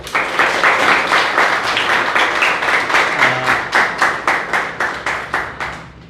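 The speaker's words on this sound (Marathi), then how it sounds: "सोहमचा आज वाढदिवस पण आहे, तर त्यासाठी एकदा जोरदार टाळ्या वाजवूया" Rhythmic clapping for Soham's birthday, a crowd applauding at an interaction event with a NEET topper, steady and loud, with the claps falling into a synchronized beat toward the end.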